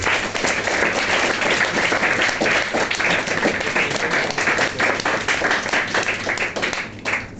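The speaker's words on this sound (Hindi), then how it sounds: "इसलिए अपनी खुशनसीबी पर एक बार तालियां बजाइए" A crowd gives loud, sustained applause, many hands clapping densely and steadily for several seconds before tapering slightly at the end.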